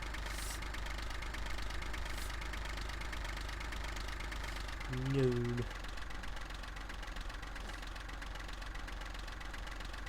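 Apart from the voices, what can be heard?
tractor engine running in a farming simulator video game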